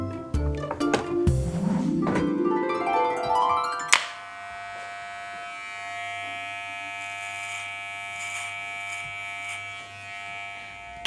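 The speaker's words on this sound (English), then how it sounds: "you hear the buzzing noise?" Electric hair clippers switched on, a steady close mechanical buzz holding evenly for several seconds after a short burst of music.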